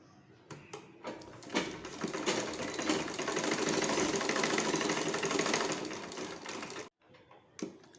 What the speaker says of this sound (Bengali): এখন ফ্রন্ট পার্ট সেলাই করে নিচ্ছি।